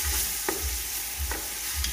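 Chopped tomatoes are stirred in a frying pan over a continuous sizzle, with several spaced scraping strokes close by and no voices.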